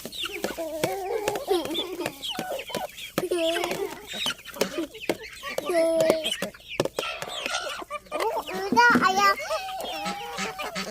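Chickens cluck and squawk close by in a busy flock at feeding time by their coop, mixed with children's voices talking and playing.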